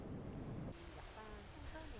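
Surf rolls in at Songjeong beach in Busan, a surfing beach on an early summer day: a steady broadband wash of waves and wind, with a voice faintly audible partway through.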